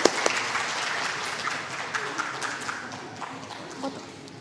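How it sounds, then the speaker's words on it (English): Applause from a conference audience at an education event, a steady broadband wash of many hands clapping that holds for several seconds with a few sharper claps standing out. "Let's give another one applause"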